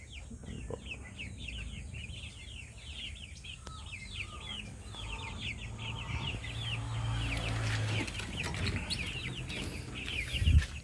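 Hens cluck on a small backyard chicken farm, a continuous chorus of soft, overlapping clucks at moderate distance over a low background rumble, with no talking.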